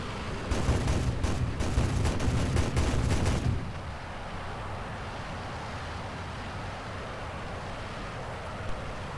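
Rapid machine gun and 30mm cannon bursts from a MiG-9 jet in War Thunder rattle loudly for about three seconds, then cut off, leaving a steady wind-like engine rush for the remainder.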